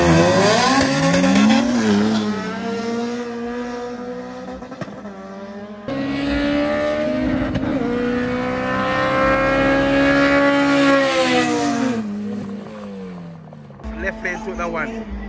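Drag race cars at a Jamaican grudge-match event launch and accelerate down the strip, loud engines rising in pitch across two long passes with tire noise, while announcers and a crowd talk over them.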